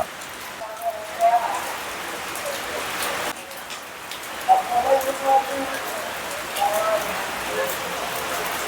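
Rain falls steadily outside, a soft, even patter on surfaces heard from nearby, with a voice speaking briefly now and then over it.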